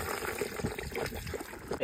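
A mix of comfrey tea, rainwater and urine is poured onto biochar and manure, a short, close splash and trickle of liquid with no talking.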